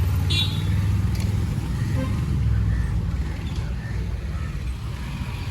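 A passing car of a Benz-type model common in Sri Lanka, heard as a steady low engine and road rumble in street traffic, with a brief horn toot near the start and continuous traffic noise throughout.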